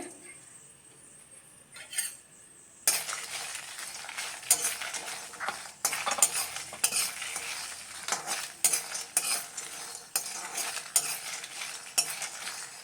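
Peeled roasted peanuts and dried red chillies tossed in a small pan for cluster beans palya, a quiet lull giving way to soft frying hiss with frequent spoon scrapes and clinks against metal, close and moderately loud.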